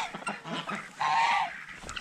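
Turkeys call at feeding time near a person scooping feed, giving a burst of honking, gobbling cries that swells to a loud sustained call midway, amid scattered bird noises.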